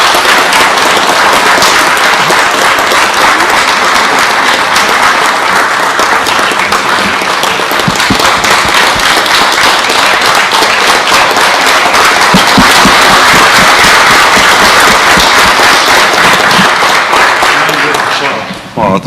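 A city council chamber fills with sustained applause for the police chief and the entire force, dense clapping from a crowd lasting nearly twenty seconds before fading out abruptly.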